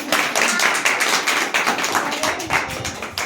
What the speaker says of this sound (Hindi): इसके लिए एक तालियां बजा दो।